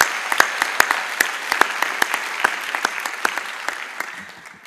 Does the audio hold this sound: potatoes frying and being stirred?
no